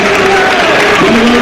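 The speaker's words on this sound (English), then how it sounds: "Arsenal fans around us heading for the concourses give their applause" Arsenal fans in the stadium at an Arsenal versus Burnley match give a broad, steady wash of applause, with a commentator's voice running over it.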